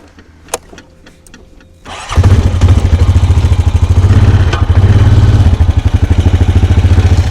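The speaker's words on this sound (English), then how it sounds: "I got it hooked up to the four-wheeler. I'm gonna take off" A four-wheeler ATV hooked to electric fence fires up and drives off, its engine jumping from quiet clicks into a loud, steady, pulsing drone that holds close by.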